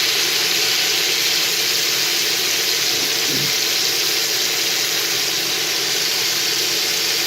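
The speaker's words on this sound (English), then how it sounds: "we're getting a really nice sear" Moose striploin searing in a hot pan, a steady loud sizzle and hiss running unbroken throughout, close by with no talk.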